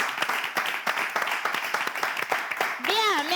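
Guests applauding in a room, a close burst of irregular clapping that fades as a voice begins speaking at the end.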